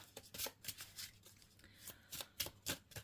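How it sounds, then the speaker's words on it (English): Tarot cards are shuffled in quick riffling bursts, a soft rapid flutter repeating several times, close and quiet with no talking. "I will close my eyes and I will shuffle until that feels right"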